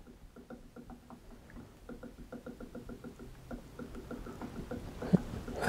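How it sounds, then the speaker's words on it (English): Cyan ink pours into the refill tank of an Epson F570 EcoTank sublimation printer, heard as a close, rapid series of small glugging, tapping pulses that grow louder and denser toward the end. "The cyan sounds like it's racing in there."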